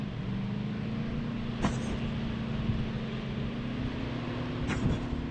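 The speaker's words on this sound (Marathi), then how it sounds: "बघा इथं आली गाडी" A car drives in a battle royale video game, a steady engine drone with a slowly rising pitch, plus a couple of faint clicks.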